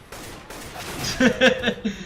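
Gunfire in the video game CS:GO, a quick burst of several sharp shots near the end over a low background rumble.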